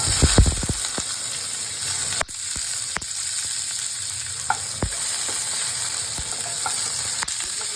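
Chopped onions fry in mustard oil in a pan, giving a steady, close sizzle broken by scattered clicks and scrapes of stirring, with no talking.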